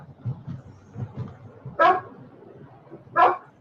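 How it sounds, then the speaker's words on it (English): A dog barks twice, loud and close, with sharp single woofs more than a second apart, following low muffled rumbling noises at the start. "When my dog bark like that, I talk to him."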